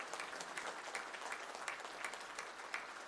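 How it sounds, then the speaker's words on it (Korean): Participants at a treaty signing ceremony between Kim Jong Un and Vladimir Putin burst into sustained, dense applause, many hands clapping steadily and loudly for the whole stretch. "참가자들은 열렬한 축하의 박수를 터쳐 올렸습니다"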